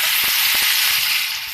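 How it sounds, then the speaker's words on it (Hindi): Precooked mutton chops go into hot oil for Peshawari-style chops, producing a loud, dense sizzle with a couple of soft thuds as the pieces land, easing slightly at the end. "अब ऑयल गर्म हो गया, इसके अंदर हम डाल देंगे जो चाप हमने पका कर रखी है।"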